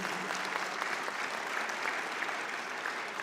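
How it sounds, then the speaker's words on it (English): Steady, dense applause from a large crowd at a business awards event, continuous and loud throughout with no pauses. "Let's give them a huge round of applause."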